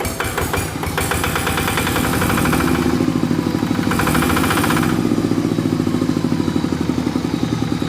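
The engine of a Quick Impala hand tractor runs with a hard, rapid mechanical clatter and a steady throbbing rhythm, loud and close, before being throttled down to shut off, with no talking.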